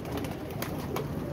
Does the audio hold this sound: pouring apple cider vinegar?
no